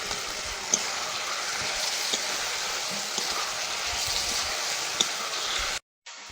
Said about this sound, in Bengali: মশলার সাথে আলুটা কষিয়ে নিয়েছি